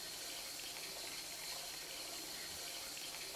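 Water from a tap runs steadily into a sink during rinsing, a faint, even gushing hiss with no pauses and no talking.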